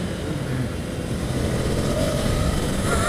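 A Ducati Scrambler Cafe Racer is ridden on the road, its engine giving a continuous rough, mid-level drone mixed with wind rush, loud and close throughout.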